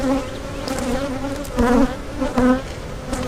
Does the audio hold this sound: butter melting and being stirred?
no